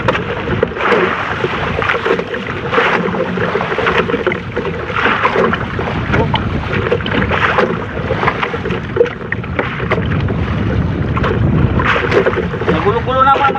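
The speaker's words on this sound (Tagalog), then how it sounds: "malakas ang alon" Choppy water slaps and churns steadily against a fishing boat hull in strong waves, with wind buffeting the microphone and voices talking underneath.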